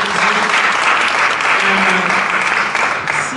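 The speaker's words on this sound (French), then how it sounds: "On peut les applaudir" A French conference audience applauds steadily, a dense, loud wash of clapping that holds its level throughout with no break.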